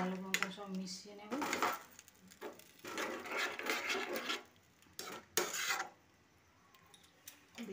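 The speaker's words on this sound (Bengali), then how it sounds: "জল দিয়ে এবার এটা ভালো মতন সব মিশিয়ে নেব।" A utensil scrapes and rubs around a pot of paneer masala loosened with a bowl of water, in uneven bursts of grating strokes with pauses between, close and moderately loud.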